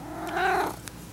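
A cat lets out a single short meow close by, a brief drawn-out tonal call with quiet room noise around it.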